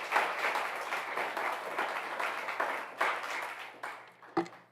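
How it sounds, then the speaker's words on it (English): A crowd at a 20th anniversary celebration of California's clean car standards breaks into sustained applause, dense and fairly close, with a few louder individual claps rising near the end. "Give them a big round of applause."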